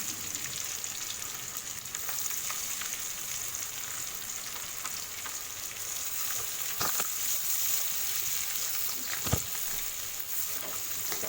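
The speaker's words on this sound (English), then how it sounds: "Now I am taking 1 onion thinly sliced. Fry them well in the oil." Thinly sliced onion fries in oil in a pan just used for frying bitter gourd, giving a continuous, even sizzle with a few brief scraping stirs, and no voices.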